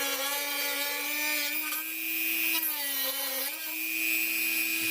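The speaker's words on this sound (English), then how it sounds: "find yourself some scissors that will cut through that plastic piece" A high-pitched motor whine, steady and close, cuts through the plastic piece of an SRT4 engine mount kit, its pitch dipping briefly as the tool bites under load.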